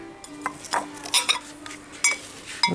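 Chinese porcelain plates and salad bowls in a blue style clink against each other in a few short, bright knocks, scattered irregularly and close by, with no talking.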